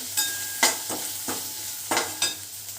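Coarsely chopped onion frying in a hot pan for soya chilli, with a sizzle broken by several sharp stirring scrapes at a loose, irregular rhythm, close by and without talk.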